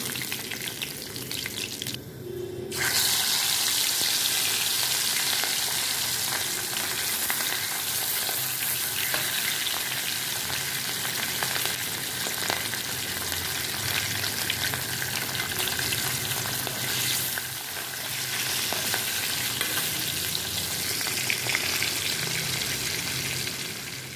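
Pieces of fish frying in a pan for an Odia-style fish curry, giving a loud, continuous sizzle with faint crackles that runs unbroken for the whole stretch, with no talking.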